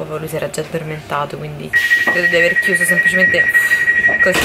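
Inside an S7 commuter train in Vienna, a steady high motor whine and a rolling carriage rumble continue beneath a woman's close conversational speech.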